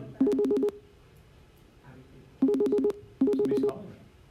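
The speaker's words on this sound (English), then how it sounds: "Somebody's calling me." Incoming call on a phone sounds in three loud bursts of rapid electronic tones, each about half a second long with quiet gaps between them, close and alone.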